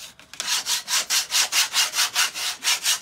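A putty knife scraping paint off wood in steady, rhythmic back-and-forth strokes, about four per second, close and fairly loud with no talking.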